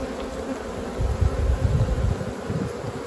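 Honey bees buzz around an opened beehive during an early-season February inspection, a dense, continuous drone of many insects close by that swells slightly in the middle.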